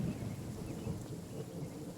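Rain and rumbling thunder in the video game Genshin Impact, a soft steady low wash of rainfall with a faint distant rumble, quiet and without voices.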